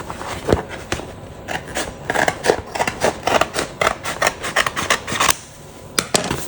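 Scissors snip through a sheet of flock paper being trimmed for a rhinestone template: a close, steady run of quick, crisp cuts with short papery rasps and no talking.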